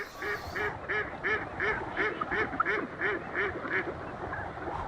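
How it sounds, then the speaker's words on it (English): Migratory waterfowl such as ducks or geese call in a steady rhythmic series of about a dozen quacking honks, fairly close and clear, arriving in Chitwan as winter approaches. "Flocks of migratory birds signal winter is approaching."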